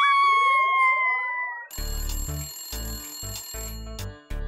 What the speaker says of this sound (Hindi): एक तो जब भी इस कार में फोन बजता है मुझे ही उठाना पड़ता है